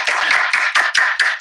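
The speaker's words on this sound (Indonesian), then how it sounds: "Tepuk tangan buat Dr." Short burst of hand clapping for Dr. Hugeng at an Indonesian talk show, five or six bunched claps and taps in quick uneven rhythm, close and fairly loud, with no voices.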